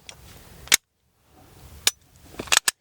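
Dry-fire trigger clicks from an unloaded Glock 17 pistol: a sharp isolated click, another about a second later, then a quick cluster of two or three clicks near the end, all close and crisp over faint room noise.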